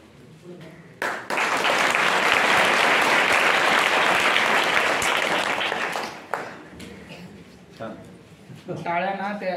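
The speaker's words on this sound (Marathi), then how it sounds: "टाळ्या ना त्या एका लयीत वाजवायच्या" Students at a government residential ashram school in Ganore, Kalwan, Nashik break into a loud, sustained burst of clapping lasting about five seconds, with voices speaking before and after it.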